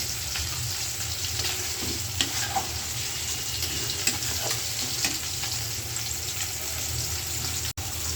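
Spice masala sizzling in a pan while cooking a pholi fish curry, a steady frying hiss with occasional stirring scrapes and clicks, and a brief faint voice in the background.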